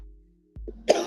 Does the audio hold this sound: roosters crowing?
no